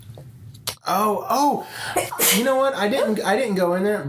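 One loud, close sneeze bursts out early, followed immediately by people talking in a podcast conversation.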